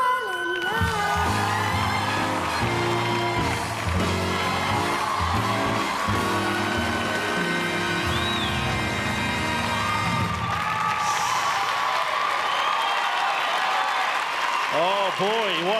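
At an ice dancing show, the crowd cheers and applauds loudly under music and a commentator's voice, a sustained wash of clapping and whoops that swells, then thins.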